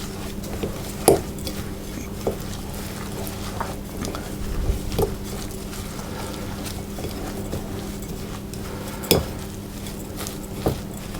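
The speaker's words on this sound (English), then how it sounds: "I'm going to mix that wet and dry ingredients together" Wet and dry ingredients for gluten-free vegan raspberry bars are stirred together in a bowl with quiet, soft mixing sounds and a few sharp utensil clinks against the side, alone and close.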